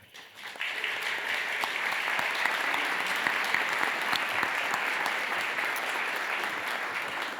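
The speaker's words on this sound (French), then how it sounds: "je vous demande d'applaudir Céline Cher" Sustained applause from an audience honouring sound designer Céline Cher, dense steady clapping that swells quickly after a soft start and holds evenly throughout, with no speech over it.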